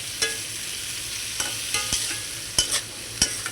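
Potatoes and greens stalks being sautéed with spices in a pan: a soft, continuous sizzle under a few distinct scraping spatula strokes, close by, with no voices.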